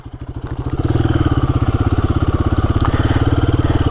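A Royal Enfield Guerrilla 450 motorcycle engine runs loud and close while riding under 4,000 revs, its rapid pulsing throb building in the first second and then holding steady and even.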